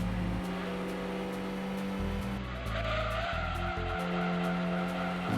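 A race car in Gran Turismo 2 laps a track, its engine droning loudly with shifting pitch and tires squealing through corners, continuous and close.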